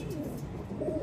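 A pigeon coos softly on a rooftop among a flock of pigeons, a brief low murmuring call heard close against steady background hiss, with no talk over it.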